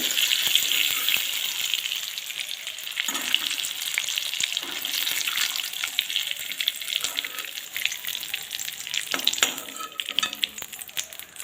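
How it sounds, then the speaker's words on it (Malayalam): Bilimbi pieces fry in oil for a pickle, giving a steady, loud sizzle and crackle that carries on throughout with no talk over it. "ഞാനിതെല്ലാം ഇങ്ങനെ വറുത്ത് ഇതേ രീതിയിൽ കുറേശ്ശെ കുറച്ചിട്ടാണ് വറുത്ത് കോരി എടുത്തിട്ടുണ്ട്"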